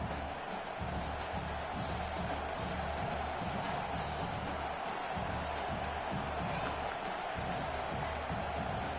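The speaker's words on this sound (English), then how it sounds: "this crowd is tearing the lid off this place" A football stadium crowd at a Michigan vs Oklahoma game roars continuously and loudly on third down, a dense wall of cheering and yelling with no break.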